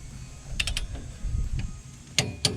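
Torque wrench on an extension tightening a front suspension bolt on a 2009–2014 F-150, giving a few sharp ratcheting clicks in quick bursts over a low workshop rumble, then two louder clicks near the end.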